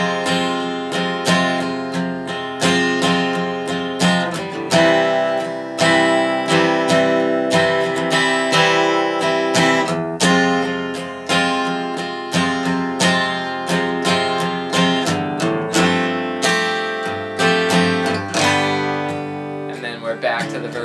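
Acoustic guitar plays the bridge of a song: a continuous run of strummed and picked chords with frequent rhythmic attacks, close and clear for about twenty seconds, with no talking.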